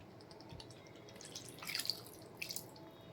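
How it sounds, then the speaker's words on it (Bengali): Water is poured into a cooking pan holding potato and cauliflower, heard as soft faint drips and splashes in a quiet kitchen. "আমি এর মধ্যে কিছুটা জল দিয়ে দেব"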